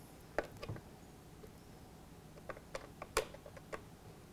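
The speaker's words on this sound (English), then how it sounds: "let's remove these six screws" Small screws being taken out of the back of a battery clock, heard as a few faint, sparse clicks and ticks of a screwdriver and metal parts in a quiet room, with no one speaking.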